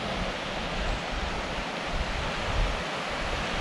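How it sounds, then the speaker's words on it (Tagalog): Sea waves of the Philippine Sea off Sabtang Island, a continuous broad wash of surf mixed with wind noise, fairly loud and without talk. "Ang dagat. Philippine Sea."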